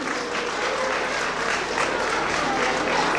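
A crowd applauds at a school parents day celebration for Balganga School, with dense, continuous clapping holding at a steady, fairly loud level throughout, close and unbroken, with no speech over it.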